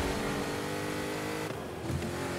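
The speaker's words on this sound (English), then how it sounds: "So as you can listen, I'm also switching gears here." A video game car engine revs continuously while the player shifts gears, with brief dips in the drone as each shift comes through. The dense, steady sound plays alone.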